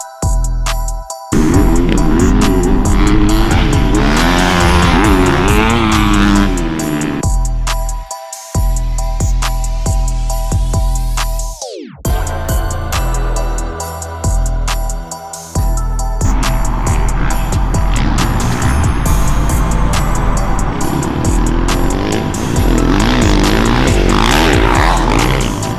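Dirt bikes ridden past by a pro rider: buzzing engine tones that rise and fall, with a sharp pitch swoop midway as one passes close, loud and continuous with brief gaps.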